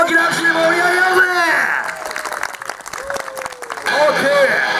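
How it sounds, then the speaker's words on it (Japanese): Crowd applause with some cheering at an outdoor BMX stunt show during an autumn festival, a loud burst that rises over an announcer's voice, dips, then swells again. "大きな拍手で盛り上げようぜ。"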